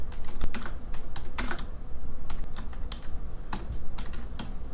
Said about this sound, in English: We're going to type a title.